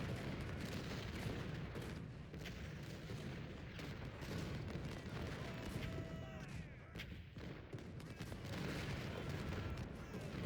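Civil War cannon artillery fires in Ultimate General: Civil War, a faint, distant, continuous rumble of booming shots and scattered volleys.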